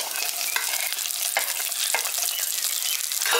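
Sliced onion hisses and sizzles in a hot pan with oil, with steady frying crackle and repeated scraping stirs close up, no voices.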